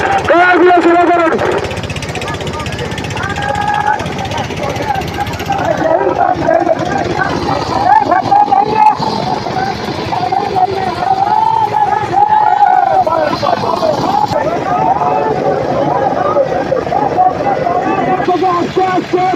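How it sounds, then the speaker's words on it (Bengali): Trawler boat engines running on a canal at a boat race in Jhalakathi, Barisal, a loud continuous diesel chug and drone under crowd babble and shouting voices throughout. "ট্রলারগুলো শুরু করেন"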